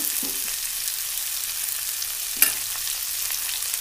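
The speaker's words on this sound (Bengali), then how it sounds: "চলো একটু ভেজে নিই। আদা বাটা দিয়ে দিচ্ছি," Ginger paste fries in a hot pan with a soft, steady sizzle, broken by a brief clatter of stirring partway through.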